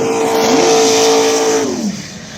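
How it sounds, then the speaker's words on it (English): A nitrous-fed Nova drag car in 5.30 outlaw small-tire racing at Mooresville roars loud and close in one steady, sustained blast, its engine pitch sliding down at the end. "Here we go, Nitrous Nova coming up."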